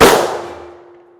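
A single sharp rifle shot from a 22-inch barrel hits body armor with a loud metallic crack. A ringing clang follows and fades away over about a second.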